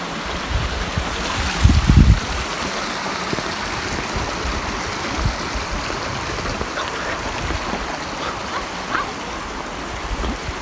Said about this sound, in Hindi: छोटे छोटे ये नदी नाले यहाँ पे आपको हर जगह नजर आएंगे।